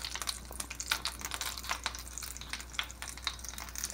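A northern pike fillet fries gently in a pan over medium heat, giving a steady close crackle and sizzle with scattered sharp pops and spits, and no talk.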